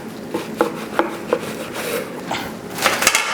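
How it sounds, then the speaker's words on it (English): A knife cutting through a brisket pastrami sandwich on a board, with several crisp sawing and chopping strokes at an irregular rhythm, close and moderately loud, ending in a quicker flurry of cuts. "let's slice into this sandwich"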